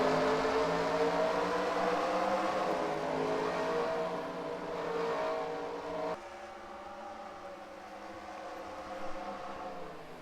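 Race cars in a racing video game accelerate hard at a green-flag single-file restart at Sonoma, a loud, steady roar of several engines revving up together and droning on, with no talk.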